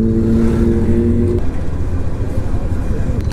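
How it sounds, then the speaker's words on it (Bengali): Motorcycles roar past on the road during an Independence Day group ride, a loud engine whine that drops off midway into rumbling traffic noise, with talking in the background. "ভাই, বিভৎস বাইক এসেছে"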